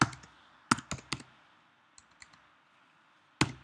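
Keys on a computer keyboard tapped while typing in Word, a few sharp separate clicks at a slow uneven pace, close and fairly quiet with near silence between them.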